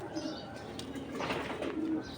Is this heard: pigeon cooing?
yes